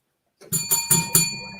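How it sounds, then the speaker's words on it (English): A small bright bell is struck four times in quick succession, close and ringing with a short lingering tail and no one talking. "Ring the bell"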